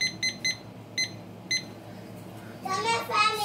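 A short series of electronic beeps chirps in uneven pairs and singles, followed by a voice speaking nearby.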